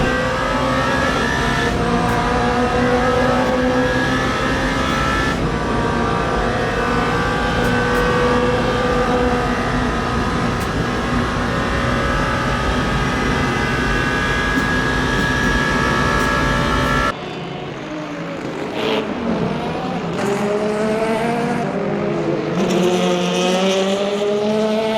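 LMP2 prototype race cars in the sim game Le Mans Ultimate at the Le Mans circuit, engine howling loud and steady with shifting pitch, then an abrupt cut to a lighter, changing engine note with tire noise.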